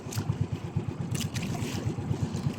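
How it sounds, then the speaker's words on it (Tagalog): A boat at sea in big waves, a steady low pulsing engine throb under rushing water and wind, with faint splashes, no talk. "Masyadong malalaki ang alon."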